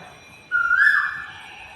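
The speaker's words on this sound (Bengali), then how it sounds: "কোকিল ডাকছে।" An Asian koel gives one clear, rising whistled call against a quiet background, a single loud note that fades gradually.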